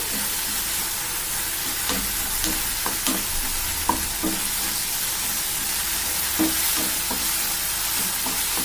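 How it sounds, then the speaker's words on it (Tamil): Mustard seeds, fennel, onion, tomato and ginger-garlic paste sautéed in hot oil for paruppu urundai kuzhambu, a continuous close sizzle with scattered stirring clicks and spoon taps throughout; no talking. "கடுகு, சோம்பு, வெங்காயம், தக்காளி, இஞ்சி பூண்டு பேஸ்ட் போட்டு நல்லா வதக்கிட்டு"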